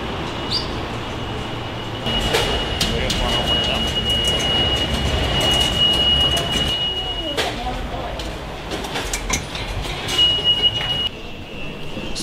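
A New York subway train rumbles and clatters loudly around 42nd Street, with a high metallic whine and wheel squeals coming and going over the roar. Voices are heard in the background.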